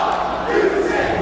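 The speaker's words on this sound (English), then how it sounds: "listen to that crowd" A wrestling crowd at a Ring of Honor event roars in a sustained, loud, dense wash of cheering, with no single voice standing out.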